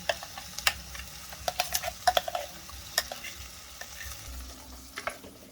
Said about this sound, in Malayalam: നന്നായിട്ട് ഇങ്ങനെ വഴറ്റി കൊടുക്കാം.